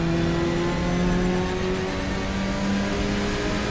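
A 1987 WTCC touring race car at full throttle around Silverstone in the GTR2 racing game, a loud continuous engine drone with a steadily rising pitch, no talk.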